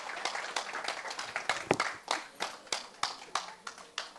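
Audience clapping at an awards ceremony, a dense patter of hands with sharper individual claps standing out, steady and fairly close, with a faint murmur of voices under it.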